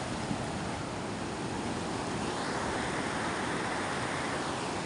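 Big ocean waves surge around a small boat with a Tohatsu 9.8 hp outboard out at sea, a steady loud wash of surf and wind noise filling the scene without pause.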